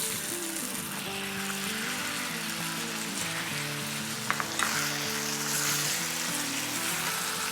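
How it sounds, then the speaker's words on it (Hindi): Small chicken breast pieces frying in oil spiced with sautéed garam masala, a steady loud sizzle with a brief clink of utensils partway through and no talking. "अब हम इसमें 2 पाउंड अपनी चिकन ब्रेस्ट के छोटे छोटे पीस किए हुए ये डालते हैं।"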